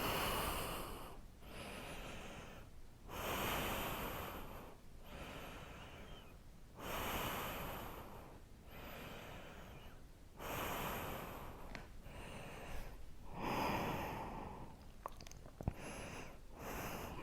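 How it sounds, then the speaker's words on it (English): Slow, deep breaths during a vinyasa yoga flow class come as a steady rhythm of long airy inhales and exhales, each lasting about two seconds, close and quiet with brief pauses between. "Breathing deeply."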